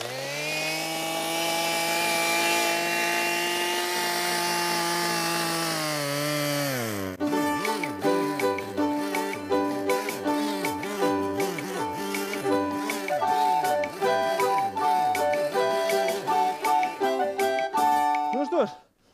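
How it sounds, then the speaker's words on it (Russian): A compact chainsaw's small engine revs at a high steady whine, then drops into a rougher, fluctuating drone as it bites and cuts through firewood, cutting off abruptly. "попробуем поработать теперь импортной, компактной, экономичной, очень удобной, современной и дорогой пилой"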